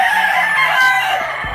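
A rooster at a gamefowl breeding farm crows once in a loud, drawn-out call, near and clear, with a low background hum.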